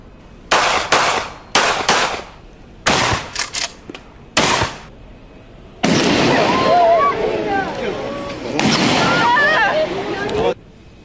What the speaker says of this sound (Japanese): こちらがその銃声の比較です。